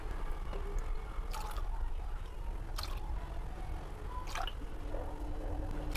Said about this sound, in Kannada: 6 ಸೌಟ್ ನೀರು ಹಾಕಿದ್ದೀನಿ.